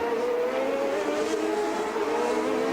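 Al Unser Jr.'s number 5 Valvoline CART race car on its final lap in Vancouver, a steady engine drone held at high revs that stays fairly close and even throughout, with no talk over it.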